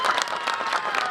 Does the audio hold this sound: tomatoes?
no